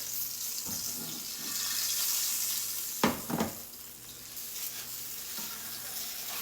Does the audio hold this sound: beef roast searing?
yes